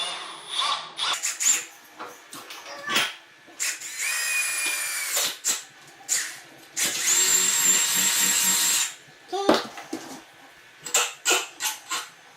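A power drill whirs in several short bursts and one longer run, with scraping and rattling of metal between the bursts, close by.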